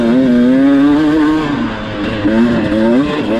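A 2019 Beta 250RR dirt bike engine drones loud and close while riding, its pitch holding steady, dipping briefly, then rising again as the throttle opens.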